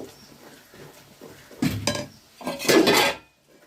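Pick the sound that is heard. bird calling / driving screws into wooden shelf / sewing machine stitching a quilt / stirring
stirring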